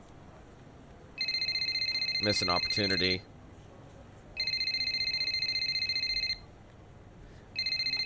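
A phone ringing in the F1 25 racing game's story mode, three loud electronic ring bursts about a second long with brief gaps between them, and a voice speaking during the first ring.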